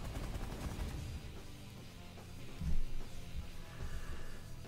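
Automatic weapon fire from a space combat game rattles along as a rapid, continuous burst with a stronger thump partway through, fairly quiet overall.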